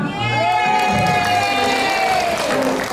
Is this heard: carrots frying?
no